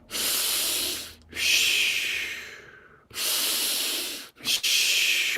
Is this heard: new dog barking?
no